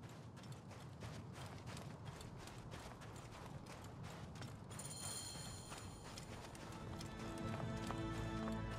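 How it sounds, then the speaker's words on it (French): Rapid rhythmic hoofbeats of a galloping horse in Assassin's Creed Origins, steady and close, with mechanical game-like sounds and a rising tonal layer toward the end. "C'est le cheval utilisé par les voleurs pour s'enfuir."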